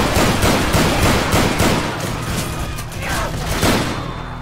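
Shotgun fire in the zombie shooter Left 4 Dead 2, a loud, dense stretch of blasts and shooting layered over game noise, with voices faintly mixed in.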